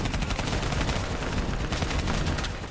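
Rapid gunfire aimed at a VTOL in the video game Black Ops 3 on Realistic difficulty, dense continuous bursts of shots and explosions filling the whole moment, loud and close.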